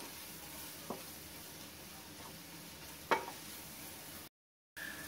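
Pepper powder, turmeric and salt cook in a pan with a soft, steady sizzle, broken by a few light stirring scrapes and a short silent gap near the end.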